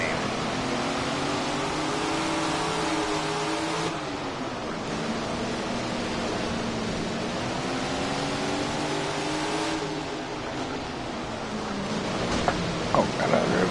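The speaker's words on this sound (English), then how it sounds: "Those engines roar as they roll to the line." Sprint car engines in the Tony Stewart Sprint Car Racing game on PS4 drone and rev steadily throughout, a loud layered roar with pitch rising and falling as the cars roll toward the line, no talking.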